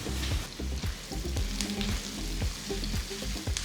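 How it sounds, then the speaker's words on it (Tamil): Two large onions, thinly sliced lengthwise, fry in a pan for chicken biryani, giving a steady, dense sizzle with crackling spatters throughout and no talking. "வெங்காயம் நல்ல பொன்னிறமா வதங்கட்டும்."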